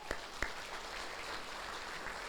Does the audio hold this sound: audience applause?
yes